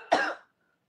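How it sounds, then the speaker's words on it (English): A single short, harsh cough, close and fairly loud, then silence. "I'm coughing"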